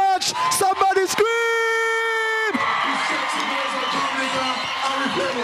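A Labour Day convention rally crowd screams and cheers. It opens with a few loud tonal whoops and yells, then swells into a dense, continuous roar of voices that carries on to the end.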